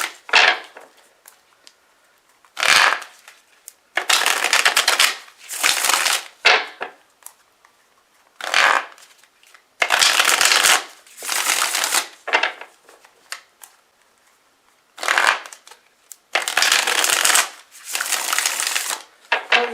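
Tarot cards being shuffled in repeated loud, close riffling bursts of a second or two each, separated by short quiet gaps, with no talking.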